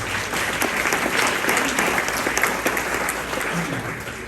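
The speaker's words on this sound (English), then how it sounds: "Give yourselves a round of applause for being here to support Outreach" Audience at a charity luncheon clapping together, dense and steady applause from a room full of people lasting a few seconds.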